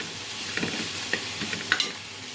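Tempering spices and lentils crackle and sizzle in hot oil, with a few sharp pops and scrapes of stirring standing out over the steady frying hiss.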